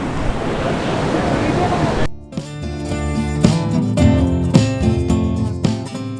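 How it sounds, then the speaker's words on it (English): Steady broadband rushing of a waterfall on a hike in Ecuador, close and loud, fills the first two seconds before voices and clattering movement take over. "made it to the first waterfall."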